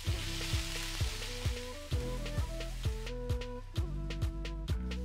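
Garlic and ginger paste sautéing in hot coconut oil for tuna masala, a soft background sizzle overlaid by regular clinks and scrapes of a utensil stirring in the pan.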